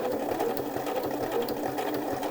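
A sewing machine runs steadily, stitching down the short edge of an interfaced shirt collar with a continuous fast hum and needle rattle, close up and without any talk.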